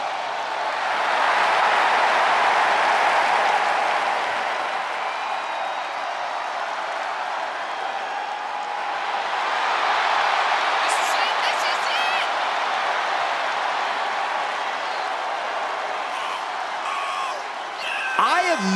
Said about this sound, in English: Never seen someone get a crowd this riled up.